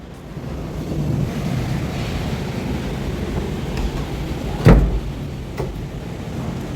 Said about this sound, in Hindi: बाहर बिजली भी कड़क रही है, इतनी तेज़ हवा चल रही है,